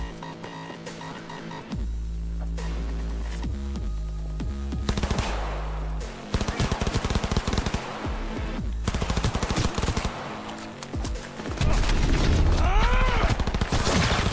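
A submachine gun fires in Cyberpunk 2077 in loud, rapid bursts and longer sustained strings of shots, with mechanical clatter, a steady game soundscape underneath and a few short breaks between volleys.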